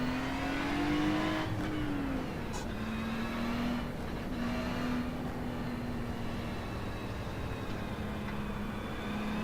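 Race cars in a racing video game rolling through a warm-up lap, their engines a steady, droning hum with a slight rise and fall in pitch, continuous and moderately quiet throughout.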